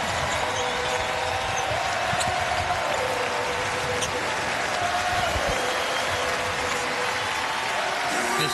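A crowd of over 10,000 in a basketball arena at a women's Big East Tournament championship game applauds and cheers in a sustained, dense roar. A commentator speaks over it, with faint court sounds mixed in.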